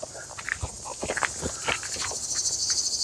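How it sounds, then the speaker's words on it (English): A high, steady insect drone of cicadas buzzes continuously in the background, with soft scattered ticks and rustles nearby. "Can hear the cicadas."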